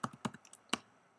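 Keystrokes on a computer keyboard, a quick cluster of three or four taps followed by a single firmer press, close and fairly quiet.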